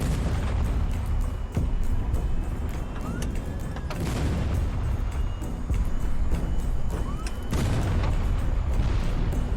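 Ship weapons in the HighFleet game fire at a ballistic missile, heavy booms and cannon blasts repeating every couple of seconds over a dense rumbling background, loud with no talk.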